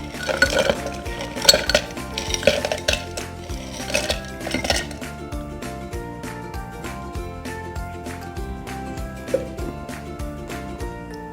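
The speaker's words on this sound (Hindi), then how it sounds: "अब हम इसमें आइस क्यूब्स भी डाल देंगे।" Ice cubes clatter and clink into a glass of mint margarita, a burst of bright knocks early on that thins to scattered faint chimes and ringing.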